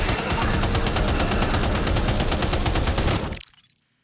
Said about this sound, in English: First time using chiral cannon.